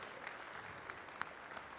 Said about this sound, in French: On peut les applaudir de nouveau très fort.